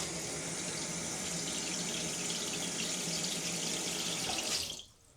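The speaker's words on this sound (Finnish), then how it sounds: "Lisätään vähän vettä" Water pours steadily into a shower floor drain being cleared with a plunger-style drain pump, a loud continuous splashing rush that stops abruptly near the end.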